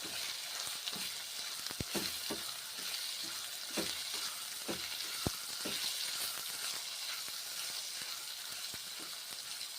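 Lau masoor dal ingredients frying in a pan, with a steady sizzle throughout and occasional sharp clicks and taps of a stirring utensil, close and moderately loud, with no talking.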